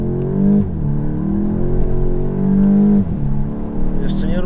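VW Golf 8 GTI accelerating hard, engine rising in pitch through two gear shifts with brief dips between, loud and close from inside the car, with speech heard under it.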